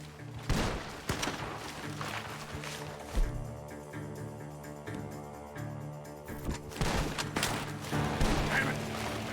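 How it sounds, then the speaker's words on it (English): Rapid gunfire from a barn in the Red Dead Redemption 2 game, repeated sharp shots in bursts over several seconds, fairly close and loud, mixed with game music and other effects. "The gunshots are coming from that barn."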